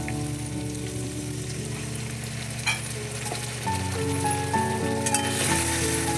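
Ground spices for an aloo dum with chhana, turmeric, Kashmiri chili, coriander and cumin among them, sizzle steadily in a pan as a little water goes in. The hiss is soft and continuous, with faint clinks of stirring.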